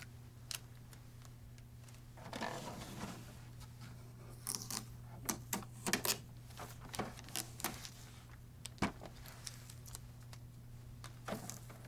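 Tape pulled off the scanner lid of an HP DeskJet GT 5820 inkjet printer, with scattered sharp snaps, ticks and short ripping bursts at close range over a quiet low hum.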